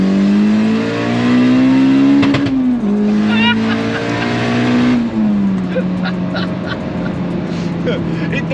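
A turbocharged B18-engined Honda Civic wagon revs hard and accelerates, loud and close, with a rising engine note that drops back at each gear change and climbs again, plus turbo whooshes and chirps between shifts.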